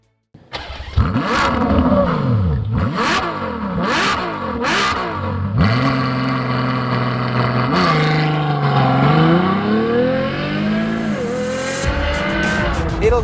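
A Ferrari sports car that reaches 100 km/h in 3.4 seconds revs and accelerates hard, its engine note sweeping up and down through several loud, close gear changes before settling into a sustained high-pitched roar.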